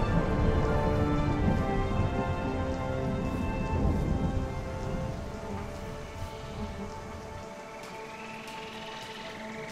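Storm rain in Age of Empires 3 pours steadily with a low rolling thunder undertone, loud at first and gradually thinning and softening toward the end.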